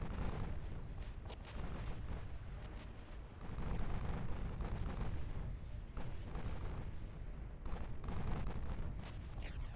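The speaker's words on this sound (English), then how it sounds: "He's actually firing torpedoes in this direction." Naval guns boom and torpedoes are launched in the warship game Ultimate Admiral Dreadnoughts, with a dense, rumbling barrage of repeated blasts rolling continuously.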